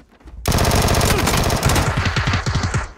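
Loud automatic gunfire from the video game PUBG cuts in abruptly as a dense rapid burst, then breaks into distinct, evenly spaced shots before trailing off.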